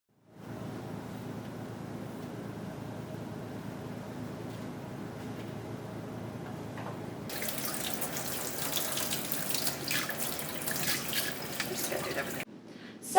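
Warm tap water runs over plastic popsicle molds in a kitchen sink, a steady splashing stream that grows louder and brighter midway as the flow hits the molds, then cuts off abruptly.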